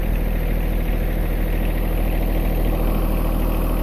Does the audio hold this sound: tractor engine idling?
yes